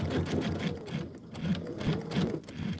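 Sewing machine stitching through a quilted placemat, a steady close mechanical whir with a rhythmic pulse of the needle, slowing briefly midway then running on again.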